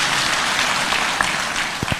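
A church crowd at a thanksgiving service in Nairobi claps for the county's Deputy Governor, a dense, loud wash of applause filling the hall and tapering slightly toward the end.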